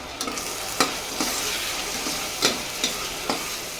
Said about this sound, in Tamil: சேர்த்துட்டு ஒரு அஞ்சு நிமிஷம் நல்லா கிளறி விட்டுக்கோங்க